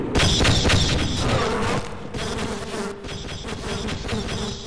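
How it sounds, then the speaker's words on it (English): In the Half-Life video game, an alien hive weapon fires swarms of bees, giving loud buzzing, droning bursts with mechanical clicks, close and continuous throughout. "Taste my bees of fury!"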